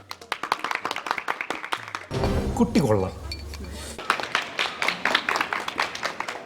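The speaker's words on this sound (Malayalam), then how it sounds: "അപ്പൊ അദ്ദേഹത്തിന് തിരിച്ചതാണ് കൈയടി കൊടുക്കുന്നത്" An audience claps in a burst of loud, dense applause lasting about two seconds during a comedy show, with people talking before and after it.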